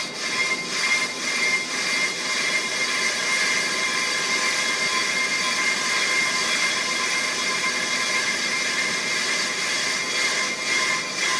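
A Pro Cut on-car brake lathe runs continuously while cutting a brake rotor, producing a loud, steady mechanical whine and hum with no pauses throughout.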